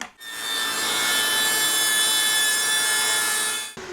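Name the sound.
Festool CSC SYS 50 table saw cutting wood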